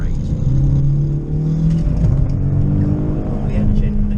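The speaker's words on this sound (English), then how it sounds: "The engine, it just sounds lovely as well, and it just revs so nicely." The naturally aspirated 3.0-litre flat-six of a Subaru Legacy 3.0R Spec B estate revs from inside the car, a smooth, steady engine drone rising in pitch across the clip, loud and close.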